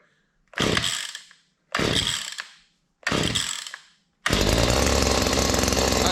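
A Stihl KM94R Kombi engine cranked on full choke: three separate pull-start attempts, each a loud rising whir that dies away, then the small two-stroke catches and runs steadily, loud and close.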